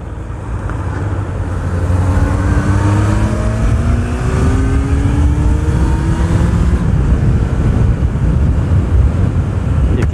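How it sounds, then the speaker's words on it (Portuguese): Steady, heavy wind roar buffeting the microphone while riding a Suzuki Bandit 600N motorcycle through city streets in Coimbra, with a low engine drone and rising whine underneath, continuous throughout with no talking. "E aqui está vento."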